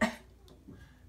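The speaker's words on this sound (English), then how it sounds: "You got a bad cough?" A child gives one short, sharp cough at the start, close to the microphone, followed by quiet room sound.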